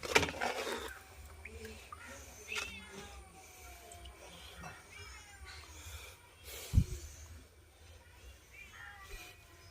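A cat meows several times, soft and fairly close, with a louder thump partway through in an otherwise quiet room.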